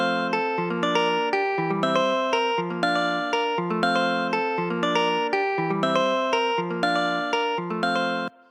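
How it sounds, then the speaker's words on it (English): Jazz guitar preset from a Korg M1 synthesizer playing a steady rhythmic pattern of plucked chords and notes in a gospel makossa style, loud and continuous, with no talking. "this is jazz guitar from Cog M1"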